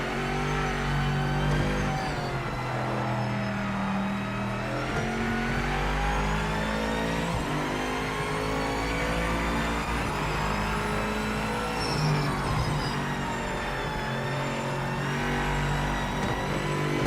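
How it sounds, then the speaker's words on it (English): A racing car engine in the Project Motor Racing simulator game revs and drones steadily at high pitch, with shifting gears and faint tyre scrub, loud and continuous throughout. "I'm not sure about the scrubbing sound of the tyres."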